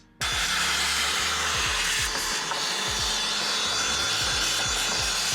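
A vacuum kicks on abruptly and runs loud and steady, its whine shifting as the nozzle rubs and moves over a car's gauge cluster, with scraping knocks underneath.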